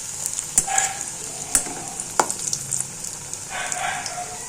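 Onion fritters (ulli vadai) frying in oil, a steady high hiss of sizzling with a few sharp clinks of a ladle or slotted spoon turning them, no talk.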